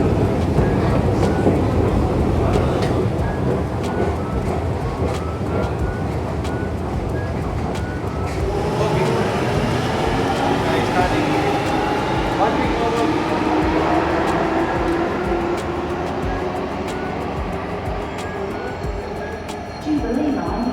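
London Underground Jubilee line train pulling into a station, a steady loud rumble and rising whine of the approaching train that builds and lingers, with station noise all around.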